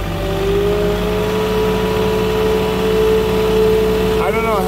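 Moffett truck-mounted forklift engine running steadily while driving across grass, a loud constant mid-pitched drone with a brief rev or shift near the end.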